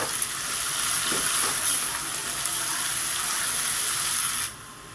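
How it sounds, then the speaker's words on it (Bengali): Chopped onions with a pinch of salt sizzle steadily in hot oil, a constant bright hiss that holds evenly and then drops away abruptly near the end. "সামান্য লবণ দিয়ে পেঁয়াজটাকে ভেজে নেব।"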